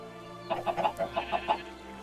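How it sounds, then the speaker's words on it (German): Chickens in the video game Minecraft cluck in a quick run of about eight short, evenly spaced calls, clear and alone over a quiet steady game background. "Oh, wir haben ein Babyhuhn."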